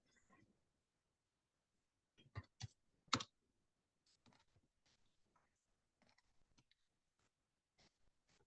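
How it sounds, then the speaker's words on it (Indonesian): Someone types on a computer keyboard, producing faint, sparse clicks in short irregular bursts with quiet gaps between them. "Saya ketik dulu apa yang mau saya kutip."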